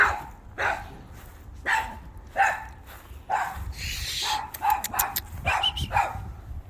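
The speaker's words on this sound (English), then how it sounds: "I've got this stupid dog next door." A neighbouring dog barks repeatedly at a moderate distance, with a run of about eight sharp barks at irregular intervals, some coming in quick clusters near the end.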